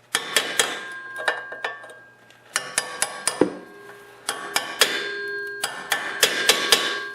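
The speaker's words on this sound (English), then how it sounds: "So I'm going to use a chisel and a hammer to do this." A hammer strikes a chisel to bend a tab on a Tecumseh muffler bolt locking plate, giving a series of sharp metallic taps and clinks in uneven bursts, close and loud with no talk.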